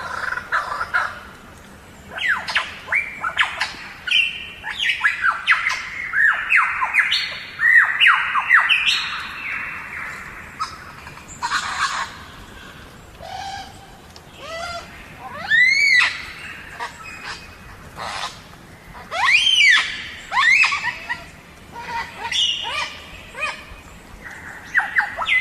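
Lyrebird mimicking other birds, a varied sequence of loud squawks, chirps, whistles and rapid trilling phrases, close and clear, in repeated bursts with short pauses over faint background.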